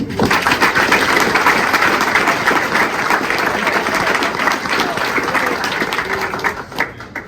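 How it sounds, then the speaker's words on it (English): Sustained applause from a banquet audience at a baseball team celebration, steady dense clapping filling the room for several seconds before tapering off slightly at the end. "Give Kale a round of applause."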